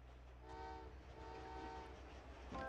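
A train in the Old Man's Journey video game runs with a steady low rumble and clacking, punctuated by two short tonal horn blasts, the second louder at the end.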